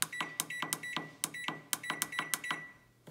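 A bread machine beeps repeatedly as its dough setting is selected, a quick irregular run of sharp, close electronic tones with nobody talking.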